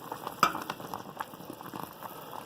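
Pork skin simmers in a pot of boiling water while being cooked for chicharrones, giving a soft, steady bubbling and crackle with a few faint clinks near the start.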